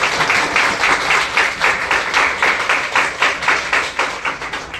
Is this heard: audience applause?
yes